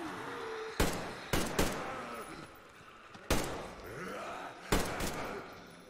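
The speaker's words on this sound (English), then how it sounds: "I guess I'll just have to shoot him" Gunfire in Metro Exodus: five sharp, loud shots in an uneven sequence, two close together early and others spaced apart, with reverberant tails over a low rumbling ambience.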